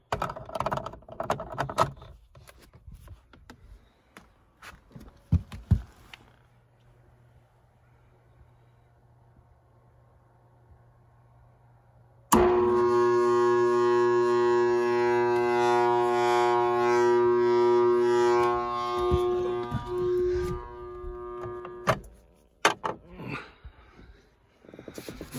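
A failing HVAC blower motor switched on after a speed change: clicks and handling noise, a low faint hum, then a loud steady whining drone for about ten seconds before it cuts off, followed by more clicks.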